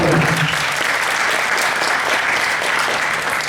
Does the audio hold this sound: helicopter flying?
no